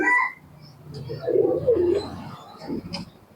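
A male Giribaz pigeon coos at a pigeon flying tournament in West Bengal, a close, low, rolling coo in the middle of the clip with soft background noise and brief chirps.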